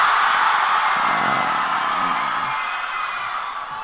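A packed crowd at a motivational speech by an actor keeps up loud, continuous cheering and whooping, a thick roar that holds steady before easing slightly toward the end.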